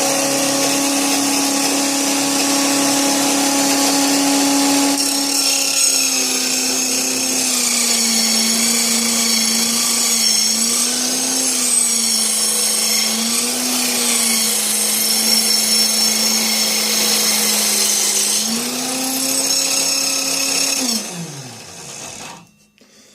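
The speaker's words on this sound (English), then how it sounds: "I'll just run a piece of wood through." A steady, loud motor whine from a small drill-powered Wolf Cub model-making table saw runs for about twenty seconds, dipping slightly in pitch as wood is fed through, then winds down abruptly.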